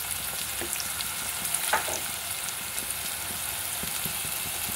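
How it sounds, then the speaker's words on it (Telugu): Onions frying in a pan for an Andhra-style bottle gourd dal, a soft steady sizzle with occasional faint clicks and stirring taps, close and fairly quiet with no talk. "ఇదండి కుక్ అవుతుంది కదా ఆనియన్స్"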